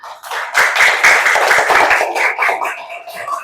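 Applause from a classroom of students during a lesson presentation, a dense burst of clapping hands that swells quickly, holds steady and thins out toward the end.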